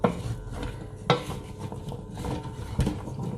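A spoon stirs chopped carrot and celery coated in olive oil in a cooking pot, giving close scraping and clinking knocks against the pot with a soft rustle of vegetables between them.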